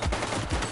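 Gunfire in The Precinct video game, a dense burst of loud, rapid shots packed into under a second with no pauses.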